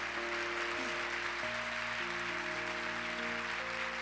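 A church congregation at a youth worship service applauds with steady, even clapping. Sustained keyboard chords shift underneath the applause.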